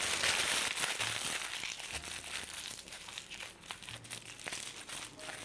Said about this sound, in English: one tip for the parchment paper, if you want to get it down there nice and snug, you just crumple it up